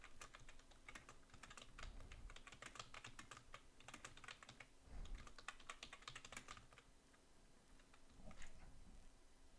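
Fast, continuous typing on a computer keyboard: dense bursts of crisp key clicks close by, with brief pauses between runs and no voices.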